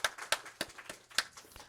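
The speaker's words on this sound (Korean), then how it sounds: "하나님께 영광의 박수 한번 칠까요?" A Sunday church service congregation claps in praise to God, a sparse, uneven patter of individual hand claps at moderate distance, fairly quiet, with a few sharper claps standing out.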